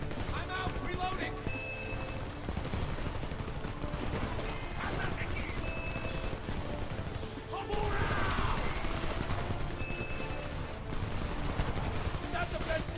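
Rapid automatic gunfire from the video game Homefront crackles in dense bursts throughout, with a louder stretch later on, mixed with game effects and someone talking over it.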